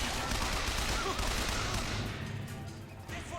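Automatic weapon fire in the video game BioShock Infinite: a dense, rapid burst of gunshots that stays loud for about two seconds, then thins out and fades into a quieter tail with a few scattered sounds.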